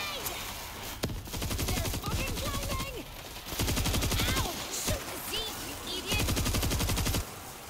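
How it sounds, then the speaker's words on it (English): A stationary mounted machine gun in World War Z hammering out long rapid bursts, three sustained volleys separated by brief pauses, with distant game sounds and faint voices underneath. "I kind of feel like these stationary machine guns are a tad useless where they're situated."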